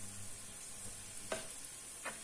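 A pan sizzles steadily as hot paprika goes in for Córdoba-style tripe stew, with two brief scraping stirs of a spoon against the pan.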